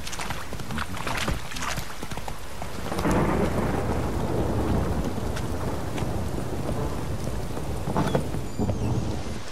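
Steady rain falls in a stormy swamp in The Witcher 3: Wild Hunt, with rolling thunder building and swelling midway, then lingering under the downpour; scattered louder drops and rumbles punctuate the wash.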